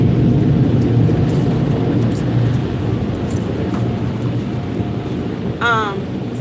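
Interior road noise from inside a moving car: a steady low rumble and hum throughout, with a brief rising whistle-like tone near the end.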